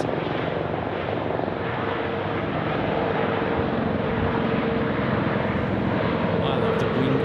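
An Airbus A330-900 at Sydney Airport produces a steady, broad jet engine roar that holds at an even level throughout, sounding moderately distant.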